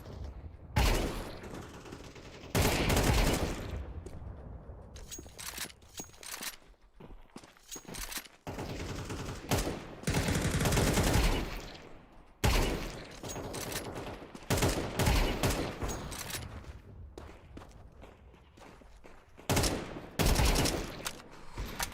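Bursts of rapid gunfire from a shooter video game, played on Ubuntu, come in loud clusters separated by short quiet gaps over about twenty seconds.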